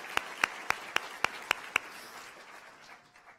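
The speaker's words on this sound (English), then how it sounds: "So big round of applause for our CEE faculty, or staff and advisors." Seven crisp, evenly spaced hand claps from an audience at a civil and environmental engineering graduation ceremony honoring faculty, staff and advisors, fading into a soft murmur of diminishing applause.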